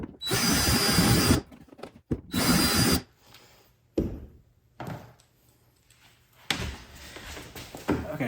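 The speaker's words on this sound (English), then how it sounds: "so I had to grind that down a little bit to get that hole perfect" A power grinder bites into the hull of a Native Slayer Max 10 kayak to open out a hole, roaring in two close, harsh bursts, followed by quieter scraping and handling noises.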